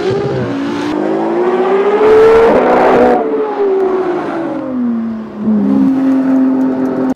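A Ferrari LaFerrari hypercar engine and exhaust roaring loud and close, revving up in rising, falling sweeps of pitch without any voices.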